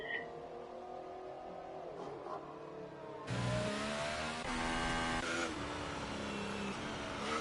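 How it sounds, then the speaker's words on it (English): Racing car engine in a sim racing game at Suzuka, Japan, humming at moderate revs, then jumping to a loud, harsh, rising whine as the throttle opens, held close and strong with no talk. "Jamie's on a lap now, feeding the throttle ever so gently through this S section"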